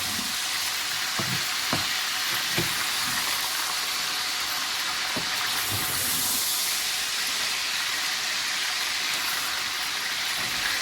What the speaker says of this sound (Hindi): इसको हमने जो है वो थोड़ी देर तक 2 या 3 मिनट तक हमने इसको फ्राई करना है